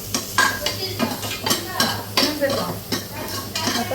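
Mutton sambar with turmeric stirred in a pot, a spoon scraping and clinking against the metal in steady repeated strokes over a soft simmering bubble, close and fairly loud with no talking.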